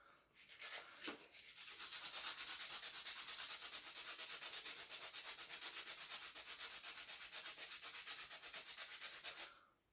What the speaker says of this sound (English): we're just sanding it off and making it smooth where it has a nice clean transition